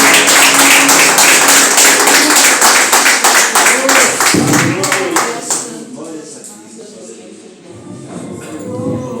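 A church congregation applauds with rapid, steady clapping that gradually fades, while voices speak over it near the end.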